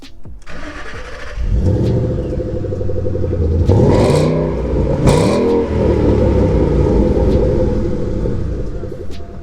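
A supercharged 2011 Mustang GT engine cranks and fires up, then revs hard several times with a loud, throaty roar before settling into a rumbling idle, close by.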